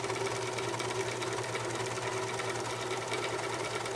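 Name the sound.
serger sewing machine stitching fabric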